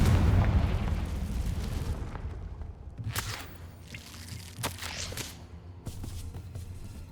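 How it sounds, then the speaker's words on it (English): A Confringo explosion spell cast in the video game Hogwarts Legacy: a heavy burst of rumbling blast noise at the start that fades out, followed by several sharper crackling impacts. "Confringo."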